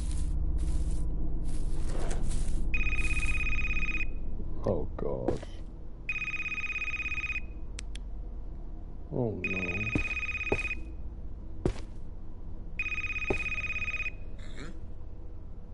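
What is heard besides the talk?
telephone ringing in video game Devil Inside Us: Roots of Evil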